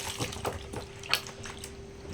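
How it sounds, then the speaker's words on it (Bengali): Cut papaya pieces being rinsed in clean water, with soft splashing and sloshing plus a few brief louder splashes, close by and steady for about two seconds with no talk. "পিঁপেগুলো কাটার পরে পরিষ্কার জল দিয়ে 2-3 বার কিন্তু ধুয়ে নিতে হবে"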